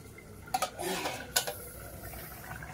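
A metal lid comes off a pot of boiled koi fish with two clanking knocks a moment apart, followed by a soft rattle and a quiet background hiss.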